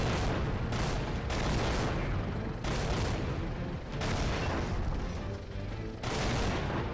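Tank cannon fire from the video game Infinite Tanks: a string of loud, booming shots that come in bursts and hit hard, with a dense roar filling the gaps between blasts.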